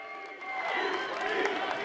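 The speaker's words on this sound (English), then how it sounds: "Claps for himself on the way out" Applause and crowd noise fill a large video game press conference hall, a broad wash of clapping and cheering that swells slightly and stays fairly distant, with voices mixed in.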